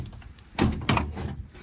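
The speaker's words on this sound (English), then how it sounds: "So I can already tell that we're missing some bolts for the door panel, so this door should slide right off." A metal door panel on an MEP-802A military diesel generator, missing some bolts, is slid off by hand, giving two close, distinct thuds and scrapes a fraction of a second apart in an otherwise quiet space.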